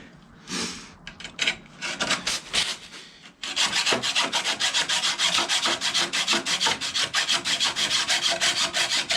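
Rhythmic back-and-forth rasping of a hacksaw cutting through the metal brake pedal of a Yamaha YBR 125 motorcycle, close up, with fast steady strokes after a few slower starts.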